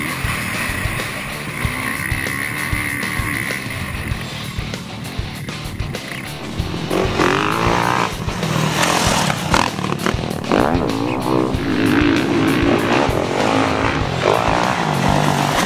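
A 2014 Kawasaki 450 four-stroke motocross bike engine on a dirt track, revving steadily and loudly with rising and falling pulls, its drone growing stronger and rougher partway through.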